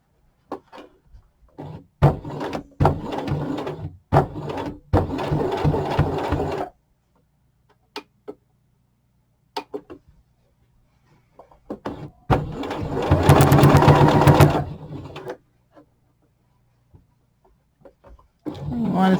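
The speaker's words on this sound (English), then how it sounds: "we want our 1/2-inch seam allowance, and we want to cover up the stitches we already did." A sewing machine runs in bursts along a 1/2-inch seam allowance while making a hat, stitching over earlier stitches. Short stuttering runs are followed by one longer steady run, with quiet pauses between them and no talk over the motor.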